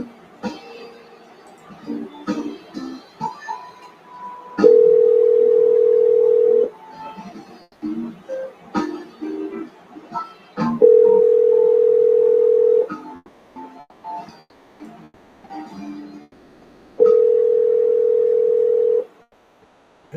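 Telephone line tone heard during call dialing: three long steady tones, each about two seconds, sound loud and clear between stretches of quiet clicks, rustling and faint room noise.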